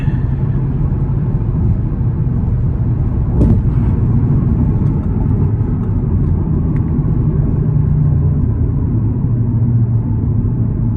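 Audi TT RS with its turbocharged five-cylinder engine under hard acceleration, a loud steady low rumble and drone heard from inside the car, with no talk over it.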